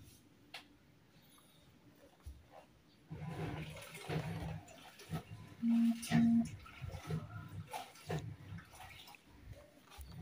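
Washing machine starting a cleaning cycle, with water gushing and surging in uneven waves after a quiet start and some faint voice sounds mixed in.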